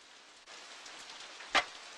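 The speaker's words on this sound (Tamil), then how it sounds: "மழை கொட்டிக்கிட்டு இருக்குங்க" Heavy rain pours steadily as a dense, even hiss throughout, with a brief sharper splash or thud near the end; no one speaks.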